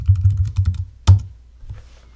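Quick keystrokes on a Mac keyboard in a fast burst, then one sharper clack and a soft trailing tap, close and clear with no voices.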